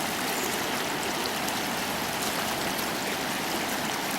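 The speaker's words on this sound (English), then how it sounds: "one of the burns that feeds into the Erne as well" A small Scottish burn swollen after rainstorms rushes steadily past, a dense, even roar of flowing water with no pauses or voices, close and continuous throughout.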